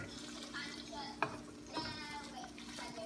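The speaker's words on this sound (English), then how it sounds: "Give it a good stir." A spoon stirring chicken asado sauce, Kapampangan style, with liver spread mixed in, soft and close, with a couple of sharper clinks against the pot over a quiet kitchen hum.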